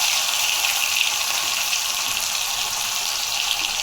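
An onion and coconut masala with cumin and mustard seeds fries in hot oil, giving a dense, even hiss of sizzling that holds steady throughout, close and fairly loud, with no voices.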